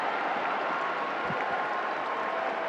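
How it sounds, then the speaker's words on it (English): A football stadium crowd at an AFC Champions League match between BG Pathum United and Melbourne City reacts to a missed scoring chance, a steady broad roar of many voices swelling slightly, fairly distant and continuous. "you can hear the reaction from the crowd"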